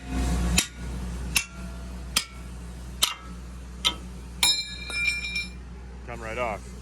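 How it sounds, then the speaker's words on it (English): Hammer blows knocking a tack-welded steel piece off heavy equipment panels, a series of about six sharp metallic knocks spaced roughly a second apart, followed by a brief clatter and a short higher-pitched scrape at the end. "So I'm gonna knock this off with a hammer."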